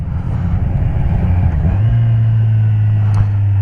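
2015 Kawasaki Z1000 Streetfighter with Yoshimura exhausts, its engine rumbling close and loud, settling into a deep steady drone.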